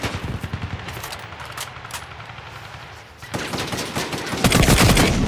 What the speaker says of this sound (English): You hear the headshot sound?